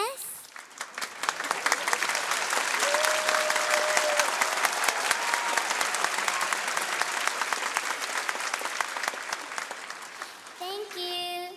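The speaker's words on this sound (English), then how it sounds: "Please give us lots of cheers." Audience applause and cheering after a children's Korean dance show, a long, dense burst of clapping from a crowd with faint children's voices mixed in, fading out near the end.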